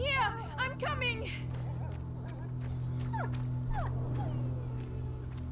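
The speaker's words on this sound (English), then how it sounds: "God, the whimpering." Dog whimpering in A Plague Tale: Innocence, a few high, wavering whines over a steady low game drone, with a voice speaking over part of it.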